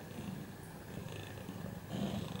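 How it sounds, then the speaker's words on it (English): Two cats purr steadily and close by in a quiet indoor room after waking up snuggled together, a low continuous rumble with slight swells and no talking. "they've now woken up and they're purring away"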